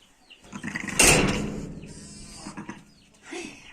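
A loud, close ewe bleat rises and trails off, followed by softer rustling and a fainter second bleat near the end, on a village farm after the year's first lamb is born.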